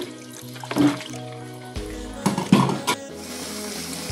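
Cassava flakes (abacha) being rinsed by hand in a bowl of water, with intermittent splashes and trickling pours over a faint steady background hum.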